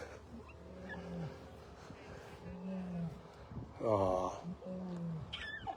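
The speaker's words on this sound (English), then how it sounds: "I heard they were very vocal cats." A lioness with cubs gives several soft, low moaning calls, then one louder, drawn-out groan, all heard close by, with a person briefly speaking.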